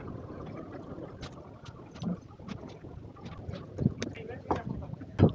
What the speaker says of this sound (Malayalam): ഇതാ ഒരു വള്ളം നിറയെ ആൾക്കാരുമായിട്ട് വരുവാണ്